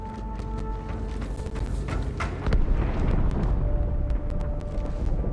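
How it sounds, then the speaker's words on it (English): A big explosion rumbles through a Halo 2 Anniversary scene aboard a ship, a dense, sustained roar with scattered crackles and debris over a low boom. "That explosion came from inside the Athens, same as the Malta."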